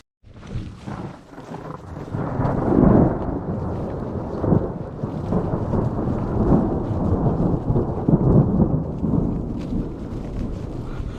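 A mountain thunderstorm near Grande Cache rolls through with long, rumbling thunder swelling and fading over steady rain, loud and close throughout.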